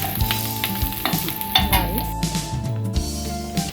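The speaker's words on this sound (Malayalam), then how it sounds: "നന്നായിട്ട് ഇളക്കണം കേട്ടോ" Mango pickle spices and green chillies sizzle in a hot pan while being stirred, a busy close crackle broken by repeated scraping and clinking of a spoon against metal, with a voice speaking briefly.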